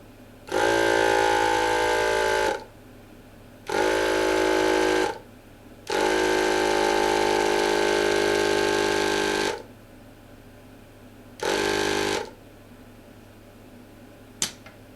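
Electric pump inflating the rear tyre of an Apollo Phantom e-scooter after a flat, running in four loud steady bursts of differing length with short silent gaps between, close by and with no talk.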